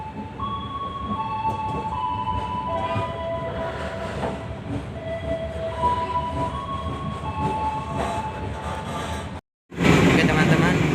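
A business-class carriage of the KA Tegal Bahari train, Pasar Senen to Tegal, rumbles steadily over the rails, loud and close, with a constant roar and faint tonal squeals before a brief cut near the end.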